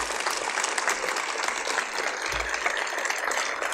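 An audience at a film Q&A applauds the film's producers. The clapping is a steady, fairly quiet wash of many hands, unbroken throughout.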